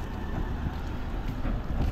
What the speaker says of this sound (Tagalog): Medyo malakas lang yung hangin.